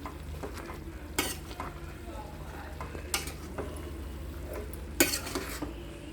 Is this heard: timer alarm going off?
no